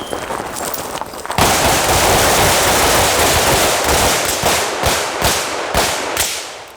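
Pistol shots at a shooting range target drill in Nashville, with a rapid string of sharp, loud cracks in close succession followed by several more spaced single shots.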